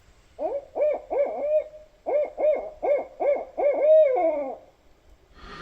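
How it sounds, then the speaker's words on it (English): An owl hoots in a rhythmic series of resonant, wavering calls at night from a tree just overhead, recorded on a phone on Vancouver Island; the calls are loud and close, arrive in two groups with a short pause between, and there is no talk. "Had an owl last night that must have been sitting in one of the trees right above us."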